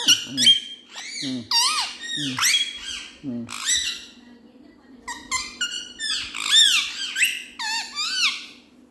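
A pet parrot lets out a rapid series of loud, shrill squawks and chirps close to the microphone, calling almost nonstop with only brief gaps in a quiet indoor setting.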